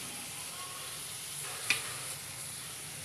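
Pasta being stirred in a pan with soy, tomato and chili sauce, a steady soft sizzle with one sharp scrape of the utensil partway through, close and fairly quiet, no talking.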